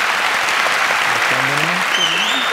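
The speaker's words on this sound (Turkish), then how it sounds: "alkışlarla." A studio audience applauds loudly and continuously at the start of a Turkish relationship-quiz show, with a host's voice talking over the clapping partway through.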